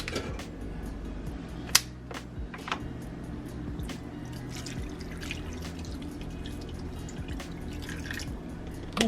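Small splashes and drips of water poured into a pot of pot roast, a few sharper plops standing out over a low steady background hum.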